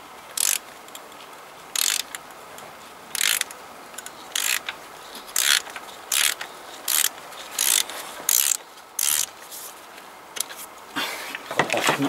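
A ratchet clicks in short bursts of ratcheting strokes, roughly a dozen spaced about a second apart, while spark plugs are loosened on a BMW E36 engine; fairly quiet and close, with no talking.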